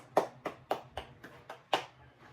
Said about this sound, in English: Yes, very good Group 1 and Group 2. A round of applause.